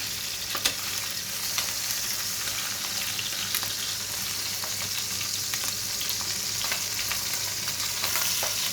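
Raw chicken pieces, including the breasts, browning in a pan, giving a continuous dense sizzle throughout with occasional light spatters and scrapes, loud and close.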